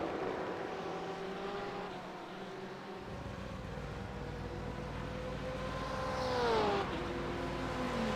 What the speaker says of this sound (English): You can hear just how careful the throttle inputs are out of that BMW GTE.